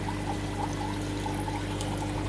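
Steady stream of water pouring into a sump in a discus breeding fish room, a continuous splashing rush with a constant low pump hum underneath.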